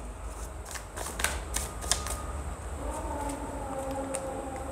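Tarot cards shuffled and drawn from the deck, with a run of crisp, quick card snaps and riffles in the first two seconds, then quieter handling over a faint steady tonal background.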